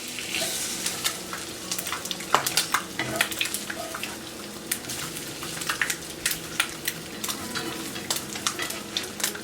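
French toast fries in a pan with a constant near sizzle and popping, broken by frequent sharp clicks and scrapes of a utensil. No one speaks.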